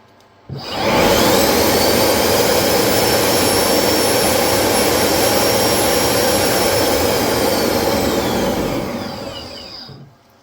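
An electric supercharger on a street-car torture test spools up sharply to about six pounds of boost, holding a loud, close, steady high-pitched whine with a rushing roar of air for around eight seconds before winding down.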